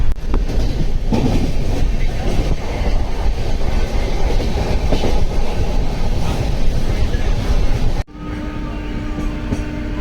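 Steady rumble and rattle inside a moving train car travelling from Anantapur to Delhi, with rhythmic clatter of wheels on track; the sound drops abruptly near the end.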